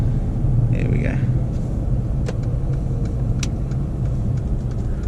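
Inside a 2016 Mercedes A200 parking, a steady low engine rumble and road hum with a few faint clicks and a brief chime, no one talking.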